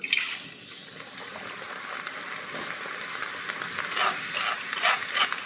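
Moong dal fries in hot white oil inside a strainer dipped in a pan, giving a continuous close hiss of bubbling oil with light crackles and occasional stirring scrapes and no voices.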